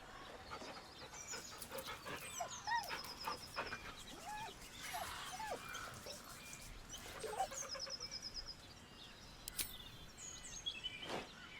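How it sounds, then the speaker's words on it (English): Dog in Baldur's Gate 3 whimpering nervously, with soft rising whines and panting breaths scattered over several seconds amid chirping birds in the background. "The dog whimpers nervously,"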